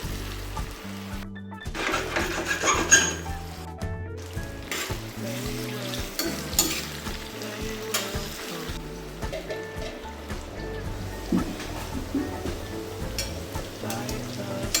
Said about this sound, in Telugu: ఇంకా ఆయిల్ అంతా వేసిన తర్వాత కాకరకాయ ముక్కలు వేసేస్తున్నాను